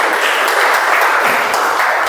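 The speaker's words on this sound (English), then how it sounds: "One more round of applause for everyone who has taken a great step." Dense, loud applause from an audience at a club meeting, a continuous wash of many hands clapping close by for a short stretch.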